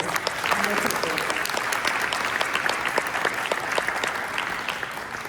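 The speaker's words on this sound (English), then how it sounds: "let's give a round of applause to all of the startup founders" An audience at a business pitching event in a hotel ballroom applauds the startup founders, a thick, sustained round of clapping at even volume that tapers slightly near the end.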